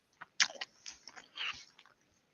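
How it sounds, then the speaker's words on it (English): Someone chews crunchy, crispy tater tots up close, with a few sharp bites followed by crackly mastication in short bursts, alone without speech. "Sounds like you made your tater tots too crispy there"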